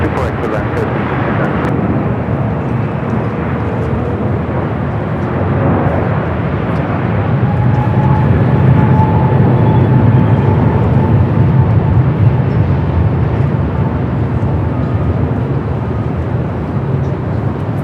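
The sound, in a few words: Boeing Dreamliner jet on short final landing at LAX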